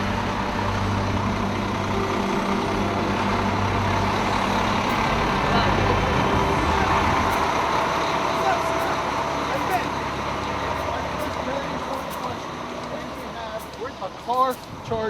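Fire engines from across the state pull into a staging area at a Jersey Shore boardwalk fire, heavy diesel engines rumbling and idling close by under steady background noise and talk, with a reversing beep late in the scene.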